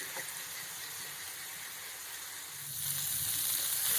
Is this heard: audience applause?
no